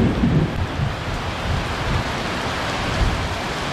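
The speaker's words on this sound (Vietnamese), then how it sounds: "Rồi gầm đùng đùng luôn." Thunder rumbles low and heavy beneath a dense downpour of rain on a rural house roof, the deep roll swelling at the start and lingering under the constant loud hiss.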